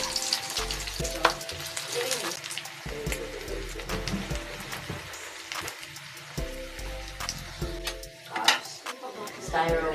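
Okoy shrimp fritters made with alamang fry in hot oil, sizzling steadily up close with utensil clatter and stirring, while a person talks at times.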